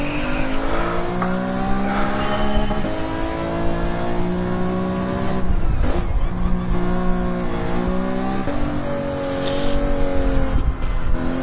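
A race car engine in Gran Turismo 7 revs hard through laps, loud rising and falling tones as gears change, with brief tire squeals and no talking.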